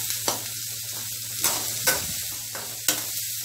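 Onion and vegetables for cauliflower poriyal sauté in a pan with a constant close sizzle, broken by several sharp spatula scrapes and stirs at irregular intervals.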